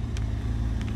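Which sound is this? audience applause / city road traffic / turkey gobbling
city road traffic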